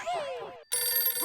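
A landline telephone rings in a sitcom household scene: a loud electronic ring burst, a brief gap, then a second sustained ring, close and clear with no talk over it.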